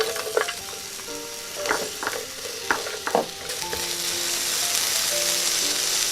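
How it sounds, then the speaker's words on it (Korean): Onions frying in olive oil in a pan while making mini beef burgers, with a steady close sizzle that builds and several stirring scrapes and clicks over the first few seconds. "양파를 볶아줄 거예요."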